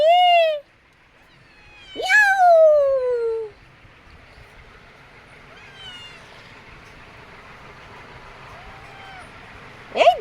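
A cat gives several loud, drawn-out meows, one long wail near the start and more later, separated by quieter stretches with faint background sounds.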